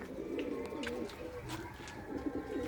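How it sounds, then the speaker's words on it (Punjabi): Large pigeons coo steadily in a loft, the low rolling calls layered and continuous, close by with no talk over them. "ਇਹਦੇ ਵਿੱਚ ਨੇ ਆਪਣੇ ਵੱਡੇ ਕਬੂਤਰ"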